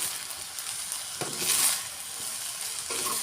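Basmati fried rice with shrimp and chicken gizzard stir-fried in a pan, giving a steady close sizzle with a couple of scraping stirs of the spatula and no talking.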